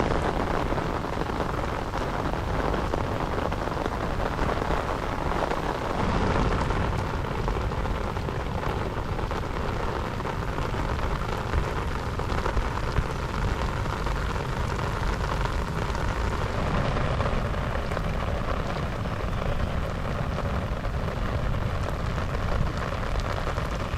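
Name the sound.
rain falling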